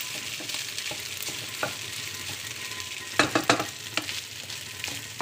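Leftover rice frying in pork fat and oil, a continuous close sizzle with scraping stirs and a cluster of sharper clanks near the end, no talking.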